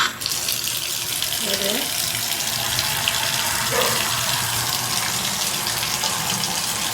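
Water runs steadily from an Esnbia tub shower faucet set with a 6-inch rain shower head, a constant loud splashing stream, with a brief spoken remark partway through.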